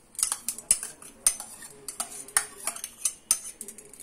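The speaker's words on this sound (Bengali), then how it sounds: "এবার একটু নাড়িয়ে নি।" Metal spoon stirring and scraping upma in a pan after raisins and oil-fried carrots go in, a run of sharp close clinks and scrapes at an uneven pace with no talk.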